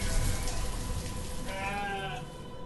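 Sheep bleat in the farming video game Banished, a few wavering calls in the later part over a steady background wash, with no one talking.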